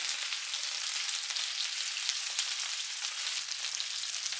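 Beef for cumin beef stir fry frying in a pan, a steady close hiss and crackle of sizzling that holds even throughout.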